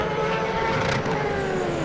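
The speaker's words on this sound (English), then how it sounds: "There goes the Ligier." A Ligier race car roars past on the Donington GP circuit during an endurance race, a loud broadband engine sweep that swells and fades, with no talk over it.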